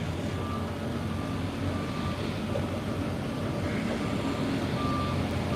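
A truck idles at the SpaceX Starbase launch site in Boca Chica, Texas, with a steady low engine rumble and a faint repeating reversing beep, no speech.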